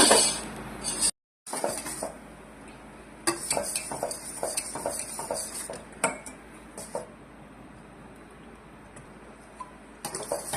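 Bread pudding mixture stirred in a pot on a gas stove, with a spoon scraping and clinking against the metal in irregular close taps and scrapes, plus a brief dropout near the start.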